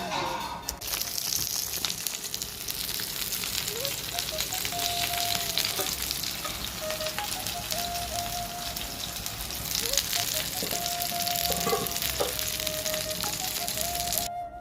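Fish fries in a pan for a Sunday lunch, giving a steady, close sizzle that runs throughout, with a few thin beeping tones and light clatter over it and no talking.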